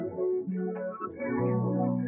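A sustained atmospheric texture layer for an R&B vocal-sample beat, a warm, dense pad-like drone with slowly shifting tones and a brief swell partway through, steady and close throughout.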